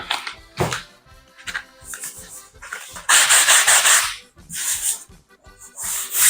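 Sandpaper scraped by hand over a wallpapered wall, rough rasping strokes in uneven bursts, some short and some sustained, loud and close with brief pauses between passes.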